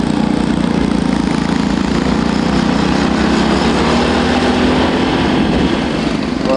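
A motorbike carrying a propane tank rides past on a chilly street in Vietnam, its small engine droning steadily and loudly for the whole stretch, no voices.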